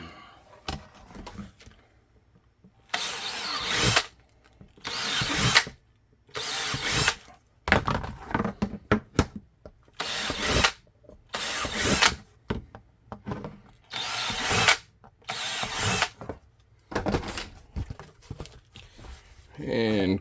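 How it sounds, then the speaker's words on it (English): Power drill boring holes in a handmade holster, in repeated loud bursts of a couple of seconds each separated by short pauses, with a voice talking between some bursts. "So let's just drill and take care of that."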